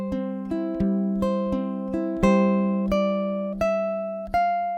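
Solo ukulele picking a beginner Travis-style etude, index finger leading: clear plucked notes over a steady repeating bass pattern, each new pluck ringing out in an even, unhurried rhythm, close and alone without talk.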